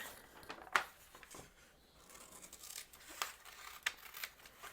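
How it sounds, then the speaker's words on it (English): Scissors cutting folded paper for a DIY visual journal, a few quiet snips and papery rustles of creasing and handling at an uneven pace, close and faint. "I'm going to straighten it out a bit, creasing it, cutting it."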